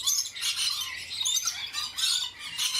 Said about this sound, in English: Great bird noises, totally not annoying.